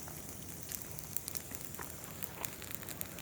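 Outdoor fire burning in fall woods, giving a steady broadband roar with scattered small crackles and pops throughout, fairly quiet and distant-sounding, with no talking.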